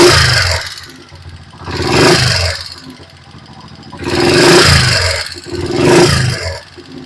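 Honda TMX125 motorcycle engine with a faulty stator being revved hard: three loud surges rising and falling in waves, each a roaring climb followed by a drop back to idle.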